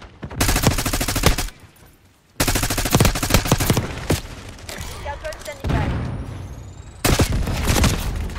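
Rapid bursts of loud automatic gunfire from Call of Duty Black Ops 6 gameplay, several sustained volleys broken by short pauses, with a player talking over parts of it.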